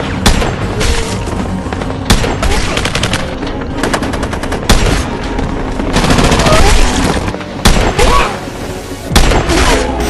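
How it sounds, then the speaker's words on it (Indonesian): Action-film battle scene of sustained gunfire with an RPG fired at a sniper on a rooftop, loud dense bursts of automatic fire and sharp shots with heavy booms throughout, continuous and chaotic with no pauses. "Khalid menembakkan RPG ke arahnya"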